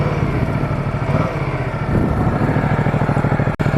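A Ducati Multistrada 1260 S motorcycle engine runs steadily at idle, a loud, close, even rumble with pulsing low-end beats throughout, no voices over it.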